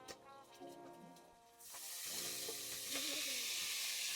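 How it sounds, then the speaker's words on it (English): Cooked meat tipped back into a hot pot during a chili sauce recipe, a soft clatter first, then a sudden broad sizzle that swells and keeps hissing steadily. "Let's get our meat back in our pan,"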